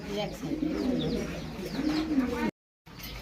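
Pigeons, including a grizzle beauty pigeon, coo in low, rolling bursts close by, with soft rustling around them and a brief gap of silence near the end.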